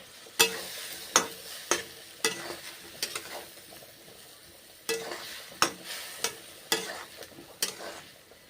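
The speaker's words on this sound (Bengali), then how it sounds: "তারপর সামান্য জল এখন দিলাম নেড়ে চেড়ে রান্না করছি" A spoon scraping and stirring raw banana dum curry in a pan after water is added, a series of sharp, close strokes in irregular rhythm over a faint simmering sizzle.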